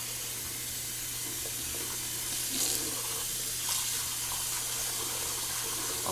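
Hot water runs steadily from a bathroom tap into a sink, a continuous close hiss and splash with a couple of brief louder gushes partway through.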